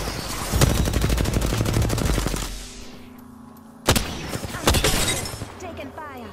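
Loud bursts of rapid automatic gunfire in a video game battle, dense volleys for a couple of seconds, a pause, then another sharp burst and scattered shots, with voices calling out amid the shooting.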